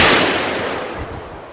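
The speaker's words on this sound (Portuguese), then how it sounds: "Esses tiros, eles estão chegando." A burst of distant gunfire from a skirmish, a staged drama effect, pops sharply at the start and then fades into a rumbling, crackling tail. No one speaks.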